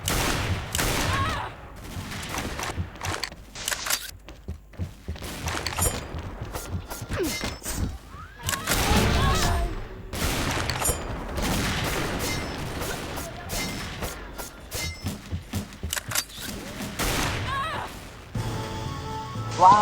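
Rapid bursts of gunfire from a shooting video game crack and rattle in dense volleys, some clustered, others spaced, while a player's voice talks over parts of it.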